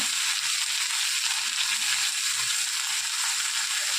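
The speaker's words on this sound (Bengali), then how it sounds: "বেগুনটাও এরকম করে ভেজে নিচ্ছি।" Eggplant frying in a pan produces a continuous, close hiss of oil with a faint crackle. It stays steady and uniform throughout, with no talk.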